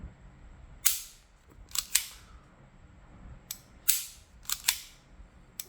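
Seven sharp, snappy shots crack out from a Hi-Capa 5.1 airsoft pistol, some in quick pairs and some spaced apart, fired close by with quiet between them.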